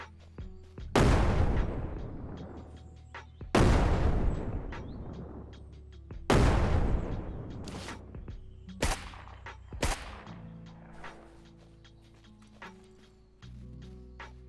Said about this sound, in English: Start chucking grenades at them.